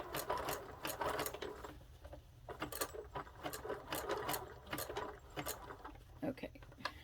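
A sewing machine stitches a patch onto thick denim jeans, with rapid bursts of mechanical chatter that start and stop repeatedly, close and fairly loud over a soft background hum.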